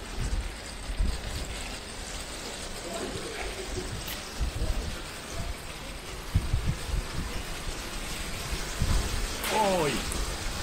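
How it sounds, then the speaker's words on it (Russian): Steady hiss of rain falling outdoors in a park, with brief voices speaking now and then over it. "Ой, дождь."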